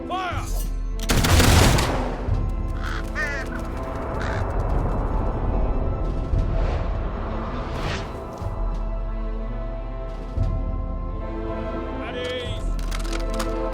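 A volley of rifle fire from a line of soldiers in the game Fable 3, a loud burst of shots near the start followed by scattered cracks and crows cawing, with music and voices running underneath.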